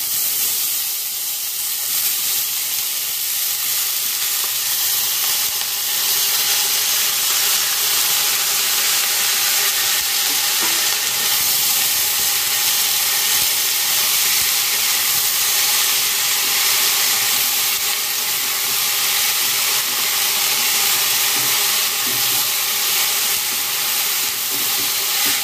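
Finely sliced potatoes and onions fry in tempered oil, giving a steady, loud broadband sizzle and hiss that holds without a break, with no talking over it.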